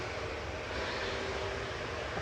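Airbus A320neo jet engine spooling up at Manchester Airport, a steady loud grinding roar with broad rushing noise that holds level throughout, heard from a spotting position without any talk.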